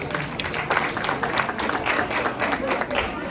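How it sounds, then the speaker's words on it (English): An audience at a school play applauds its teachers, a dense, steady round of clapping from a crowd that holds without pause, mixed with scattered voices. "Again, a great round of applause for our teachers"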